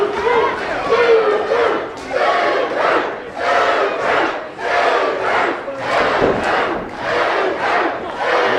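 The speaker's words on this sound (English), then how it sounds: "You can hear the crowd." A wrestling event crowd chants and roars loudly in rhythmic surges, each about a second long, with shouts in the mix and no commentary over it.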